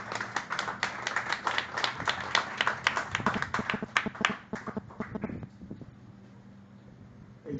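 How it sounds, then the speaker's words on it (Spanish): Applause from a church congregation after a sermon: dense clapping from many hands for about five seconds, then thinning to a few scattered claps and fading out. "Un aplauso"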